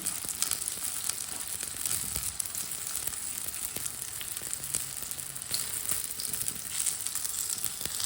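Punjabi breakfast flatbread frying in oil on a hot pan gives a steady, close sizzle with light crackling throughout, no voices.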